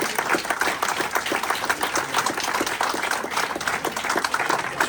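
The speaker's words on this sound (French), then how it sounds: "Voilà, sous vos applaudissements." Steady, dense applause from an audience at a French memorial tribute, continuous and fairly loud with no speech over it for the whole stretch.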